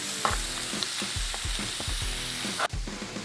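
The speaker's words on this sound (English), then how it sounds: "So all of our peppers and our onions, they're ready to go on." Peppers and onions sizzling on a medium-heat grill, a steady broad hiss with repeated low thumps and clatters as the vegetables are placed and moved, with a brief sharp drop near the end.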